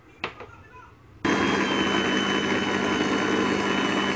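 After a quiet moment with a couple of light knocks, an electric mixer abruptly switches on and runs at a steady, loud whir, blending powdered sugar and cornstarch for an almond tart.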